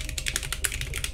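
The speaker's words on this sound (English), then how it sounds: "So I'm going to type here" Quick, close keystrokes on a computer keyboard while code is entered for a WordPress horizontal scroll effect, a steady rapid patter of crisp clicks with no talking.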